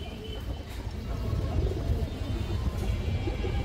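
Pigeons at a pigeon sale make low, soft cooing murmurs, close by and continuous, against a muffled background rumble.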